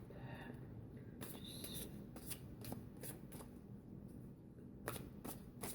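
Tarot cards are shuffled, handled and laid out one by one near the microphone, with soft riffling and sharp papery flicks and slaps recurring through a quiet room.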